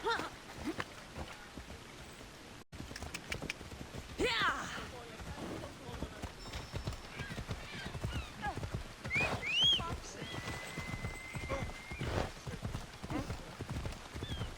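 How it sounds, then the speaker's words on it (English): Horse hooves clip-clopping in the Assassin's Creed video game, a quick, fairly faint run of beats set among game sounds, with a whinny and people talking throughout. "the game is just running people over with my horse"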